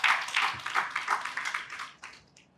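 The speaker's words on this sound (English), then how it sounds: "So give yourself a round of applause." Applause from an audience at a corporate awards gathering, a dense patter of clapping that swells and fades in waves, moderately faint and fading out near the end.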